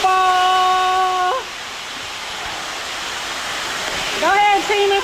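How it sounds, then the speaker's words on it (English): Waterfall inside a river cave, a constant broad rushing roar of falling water, loud and close, with people talking and calling out over it at the start and end. "I hear a waterfall. Oh Lord. Here's the waterfall."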